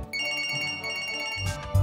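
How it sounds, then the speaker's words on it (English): An unwanted ringing phone, a bright electronic ringtone of sustained tonal bursts, clear and steady, then cut off by a short louder noisy thump near the end. "Our video contains an unwanted sound, a ringing phone."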